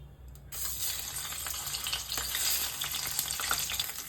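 Hot oil erupts into loud crackling sizzle as salt-and-turmeric-coated fish heads drop into the pan, then keeps spitting and popping steadily up close.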